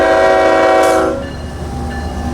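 A loud, sustained locomotive horn on a CSX mixed freight train out of Tampa blares with rich harmonic tones, then cuts off, leaving the lower rumble of the freight train rolling by.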